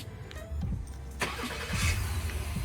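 A 2020 Honda Passport starts by remote, the engine catching about a second in and then running on steadily nearby, with wind noise in the background.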